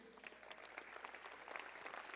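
Scattered clapping from an audience at the Canyon Challenge 2017 entrepreneur event, a steady patter of many hands at moderate level, somewhat distant and with no voices over it.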